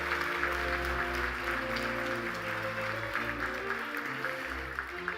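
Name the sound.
audience applause at award ceremony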